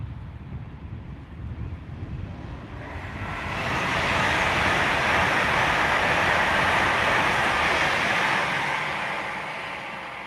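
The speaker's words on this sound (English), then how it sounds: "Pendolino any second now on the down fast line" A Pendolino train rushes past on the down fast line of a Scottish-bound main line, building from a low rumble into a loud, broad roar at close range that fades slightly at the end, with wind buffeting the microphone.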